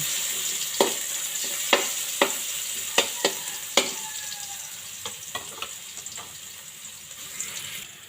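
Garlic frying in hot oil in a pan for pork adobo crackles in a constant close sizzle, punctuated by a series of sharp utensil taps and scrapes that thin out toward the end; nobody speaks.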